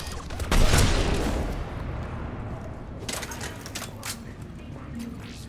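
Mass Effect 3 combat opens with a loud burst of gunfire that decays into rumble, followed later by a rapid string of sharp shots. Speech is faintly present.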